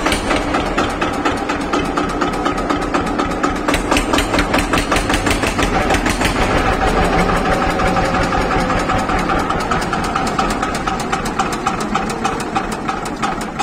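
A used tractor offered for sale on the Delhi–Shamli road in Kandhla runs steadily at close range, a dense, rattling engine drone with rapid knocking pulses that holds at an even loudness throughout, with no talk over it.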